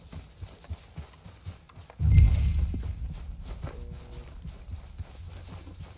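Horse hooves clip-clop at a steady walking pace in Red Dead Redemption II, a close, fairly loud run of footfalls that starts abruptly and carries on with a faint low rumble beneath.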